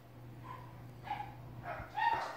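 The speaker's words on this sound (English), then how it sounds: "The dogs are going crazy." Several dogs bark in short excited bursts after someone arrives home, rising in loudness toward the end over a steady low hum.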